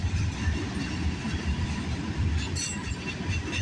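A CN freight train rolls past at night with a continuous loud rumble of wheels on rail, a steady roar and faint clatter, and a brief high squeal near the end, with no voices.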